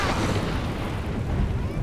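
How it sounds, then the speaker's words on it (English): An Unrelenting Force shout in the video game Skyrim lets loose as a loud, sustained roaring blast of rushing, wind-like force that fills the whole moment without letting up. "equip the unrelenting force shout and then fire him into oblivion"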